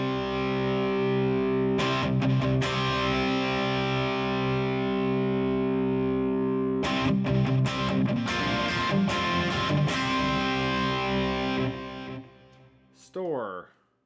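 An electric guitar driven through an overdrive pedal into a clean amp gives loud, gritty distorted chords with bursts of strumming, then fades out as a brief voice-like tone sweeps in at the end.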